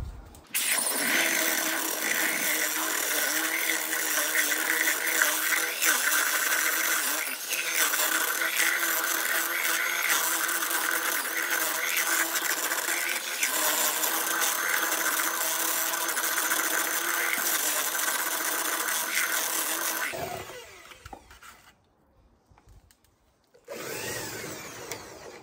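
Power mixer paddle whisking a bucket of Fuga Pave Flex paving grout, a steady loud motor whir with scraping churn running continuously for about twenty seconds, then stopping, with a brief restart near the end.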